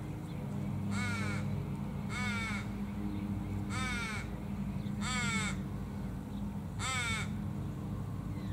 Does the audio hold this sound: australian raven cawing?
yes